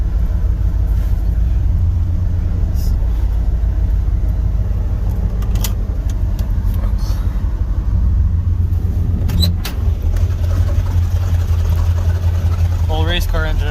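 An old race car engine sits in a truck and idles loud and close with a steady low rumble throughout, while someone talks over it.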